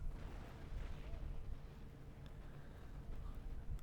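Howitzer artillery fire in a video game: low, rumbling booms and distant blast rolls, fairly faint, spread across a short stretch with a few small pops.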